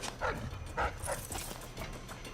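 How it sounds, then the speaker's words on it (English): A hostile dog barks in Dishonored: Death of the Outsider, giving several quick, harsh yaps in a row, close and fairly loud over a low ambient rumble. "Damn dog!"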